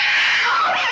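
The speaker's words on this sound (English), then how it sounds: "Why is she screaming?" A woman's loud, sustained scream from a 1956 western film, bright and continuous for under a second with no other sound over it.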